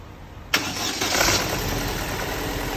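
A cold Opel Astra J cranks and catches abruptly, then settles into a rough, uneven idle with a stumbling misfire, close and loud with no talk.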